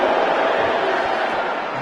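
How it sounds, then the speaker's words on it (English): Rugby union fans boo a kicker at a Leeds Beckett vs University of Leeds varsity match, a sustained, loud wall of crowd noise that holds steady for the whole stretch. "all that booing did nothing for him"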